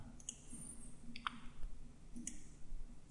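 Quiet, sparse computer mouse clicks while working in Inventor CAD software, a few isolated sharp taps spaced apart over a faint background hum.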